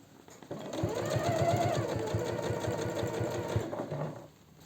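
A sewing machine stitching a seam on men's jeans runs in a steady, fast rhythmic chatter for about three seconds, close and clear, then stops.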